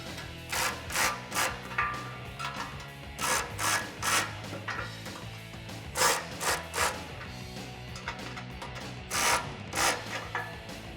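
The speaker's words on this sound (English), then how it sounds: "I'm going to use an 18mm socket and wrench, and I'm just going to snug the bolts up just a little bit" A socket wrench with an 18mm socket snugs the bolts on a front bumper of a 2004-2008 Ford F150, a DV8 Off-Road full-width unit, making repeated bursts of ratcheting clicks in short groups, close and fairly loud, with brief pauses between strokes.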